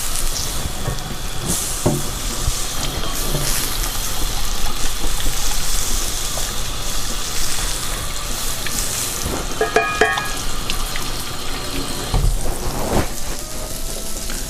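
A kitchen water tap runs steadily during washing up, a continuous hiss with occasional clinks and knocks of dishes, close and fairly loud throughout.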